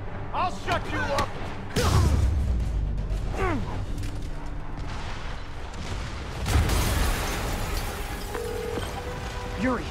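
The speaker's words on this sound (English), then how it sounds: "an explosion just..." Explosion in a Spider-Man video game scene, two heavy booming blasts with crashing debris, loud and close, mixed with game music and voices speaking.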